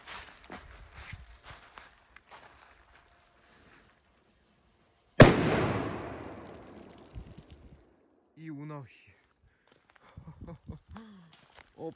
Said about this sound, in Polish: O panie, o panie, ale to ma moc, stare petardy, 2010 rok, no walą srogo, walą srogo